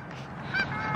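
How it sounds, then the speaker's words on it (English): Geese honk in a brief, steady burst, with one louder call standing out midway through a continuous flock chorus. "The geese."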